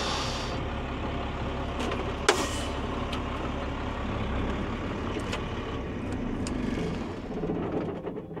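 A truck loaded with potatoes pulling out of a field, its engine giving a steady, loud, continuous rumble with a brief sharp knock early on and no talk.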